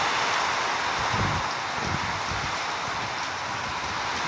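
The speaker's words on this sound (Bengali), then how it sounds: "অনেক বৃষ্টি হইতেছে, অনেক।" Heavy rain falls steadily in a dense, even wash of noise that holds constant throughout, with no voices.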